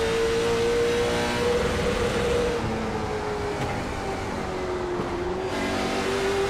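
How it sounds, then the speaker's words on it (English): An on-board race car engine at Myrtle Beach drones loud and close, a sustained high engine whine with small pitch shifts as the driver pushes for the lead. "Trying to get everything he can out of this race car right now."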